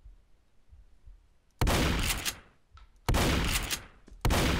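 A shotgun in Garry's Mod fires three loud, heavy blasts at roughly even intervals. Each one booms and tails off, with quiet game ambience in between.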